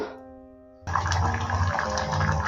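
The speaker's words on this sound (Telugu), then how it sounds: "చూసారండి ఇలా కుత కుత ఉడుకుతుంది కదా" Tamarind rasam rice simmers on a low flame, a soft steady bubbling and gurgling that starts abruptly after a short quiet moment and continues close by.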